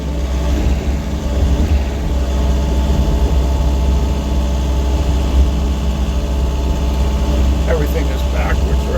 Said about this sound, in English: we're going to track our way out of here